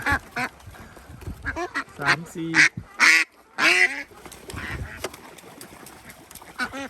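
Wet ducks quack repeatedly in a noisy flock of young laying hens, loud and nearby, while someone speaks Thai and counts over them.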